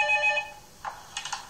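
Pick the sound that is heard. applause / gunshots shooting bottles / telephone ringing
telephone ringing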